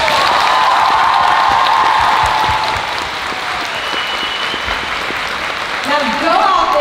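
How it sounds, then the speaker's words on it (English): An audience at a weekend fan convention Q&A breaks into a sustained round of applause, a dense wash of clapping that stays steady and loud throughout, with faint crowd voices underneath near the end. "So can we give them a big round of applause?"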